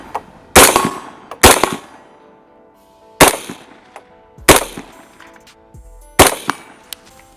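Primary Weapons Systems MK116 MoD 2 rifle firing five loud, sharp shots at irregular intervals, each with a brief ringing echo, close and alone without talk.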